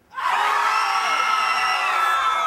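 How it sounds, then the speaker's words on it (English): A large audience at a lecture on horror cinema screams together on cue, a loud sustained wall of mixed shrieks and yells holding steady for over two seconds after a sharp start. "I want you to dig deep, scream for your life for me on the count of three, no inhibitions"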